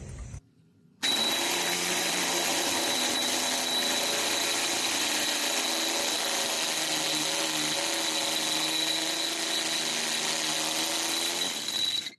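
A non-hammer power drill with a carbide masonry bit grinds steadily into masonry for over ten seconds, a loud, continuous whine with a rough, gritty edge and no pauses.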